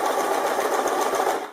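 A sewing machine stitches fabric through a bias tape maker, its steady rapid mechanical whir running close and continuous before easing off at the end.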